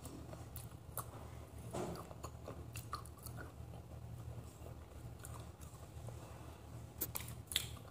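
Crunchy Maggi noodles with soupy broth and red chutney being chewed close to the mic, soft irregular crunches and mouth sounds at low volume with sharper bites near the end, no talking.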